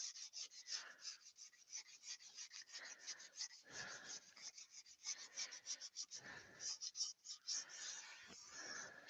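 Soft, close rubbing and rasping of 400-grit sandpaper on a textured wooden bowl in quick irregular strokes, quiet with brief pauses.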